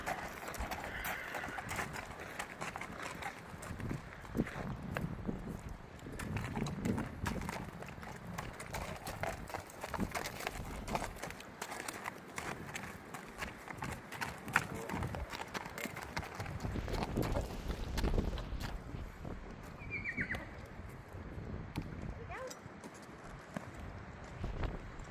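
A horse walks on firm ground, its hooves clip-clopping in an irregular rhythm close by, with faint rustling and scuffing around it and a brief bird call near the end.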